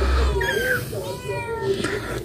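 A mother cat gives drawn-out, complaining meows close by, fretting over her kittens, while someone talks over her in a home.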